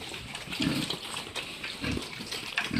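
Piglets jostle and eat at a wet feeding, with close grunts, squeals and slurping, wet snuffling mixed with splashing in an irregular, busy rhythm.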